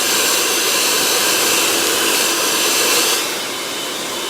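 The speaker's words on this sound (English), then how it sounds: "it's the best thing that you could ever do is put a nozzle on your dryer" A hair dryer fitted with a nozzle blows with a loud, steady airy roar close by, dropping to a slightly lower, softer rush near the end.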